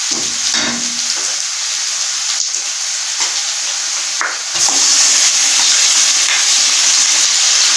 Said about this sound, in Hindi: बीच में फ्राई करेंगे ताकि गोभी का कलर ब्राउन हो जाए